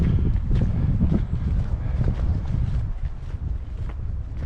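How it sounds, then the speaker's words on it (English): Strong wind buffets the microphone on Beinn a' Ghlò, a Scottish mountain, with gusts of around 30 mph expected. A loud, continuous low roar rises and falls in gusts throughout, with no voices. "And the wind's picking up."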